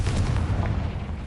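A Confringo blast spell going off in Hogwarts Legacy: one short, booming explosion with a dense low rumble.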